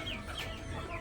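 Chickens of a mixed-breed flock, including Sussex hens, cluck softly in a coop on a rainy day, short throaty calls close by over a steady background wash.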